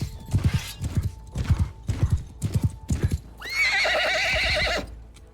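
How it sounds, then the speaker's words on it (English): A horse in the video game Mount & Blade 2: Bannerlord, with rhythmic hoof clip-clops in quick groups followed by a loud, sustained whinny near the end. "they're shooting my horse in the head."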